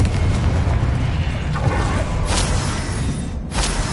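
Confringo blasting spell from Hogwarts Legacy erupts in loud booming bursts, a heavy rumbling low roar with several sharp whooshing blasts layered over it, close and continuous.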